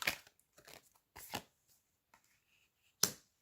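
Oracle cards from a self-care deck being shuffled by hand, giving a few separate riffling and slapping bursts with quiet gaps between them, ending in one sharp snap-like tap.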